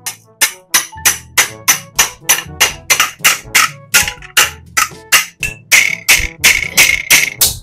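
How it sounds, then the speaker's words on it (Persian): Steady, rhythmic hammer blows ring out on metal being bent into a curve for a shield, close and loud, about twenty evenly spaced strikes with no talking. "با چکش میخوام بهش حالت قوس بدم"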